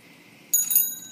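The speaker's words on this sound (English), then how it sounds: "Yeah, ring that bell." A tricycle bell gives one bright metallic ring that decays quickly, close and clear over faint background noise.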